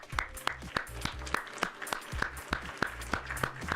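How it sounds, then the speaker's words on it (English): A small round of applause in a quiet room, sparse, evenly spaced claps from a few hands over a few seconds, fairly faint and distant, with no voices over it. "round of applause."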